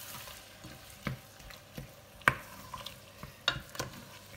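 Sausage and tomato stew being stirred in a pot, with soft irregular scraping and stirring strokes over a faint background sizzle, each stroke brief and moderately close, no voices.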